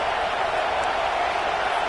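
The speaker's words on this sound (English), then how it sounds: "how nice is it to have the home crowd going absolutely bananas?" A home football crowd roars in a stadium, a steady loud wall of cheering and noise sustained throughout without a break.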